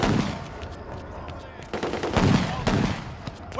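Gunfire from a PS3 Godfather II crime action game: several sharp shots and bursts crackle in quick succession over about four seconds, loud and close, with game voices speaking between them.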